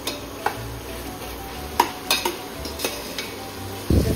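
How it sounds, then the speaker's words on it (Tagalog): Garlic being stirred in a pan until golden brown, a spoon scraping and tapping against the pan in irregular strokes over a soft sizzle, close and fairly loud, with no talking. "Halu-haluin hanggang maging golden brown."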